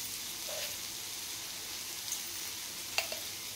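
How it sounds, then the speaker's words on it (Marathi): Sweet potato sheera, a Marathi fasting sweet, sautéed in a pan, giving a steady, soft frying sizzle with a couple of faint utensil clinks near the end. "व्यवस्थित परतून घेऊयात आपण हे एक 3 ते 4 मिनिट"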